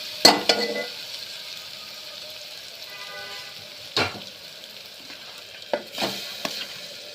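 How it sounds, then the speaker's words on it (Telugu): Chicken being stirred and fried in a pan with ginger and garlic: a soft steady sizzle broken by several sharp scraping stirs and clinks of the utensil. "అల్లం వెల్లుల్లి వేగింది. చికెన్ వేద్దాం."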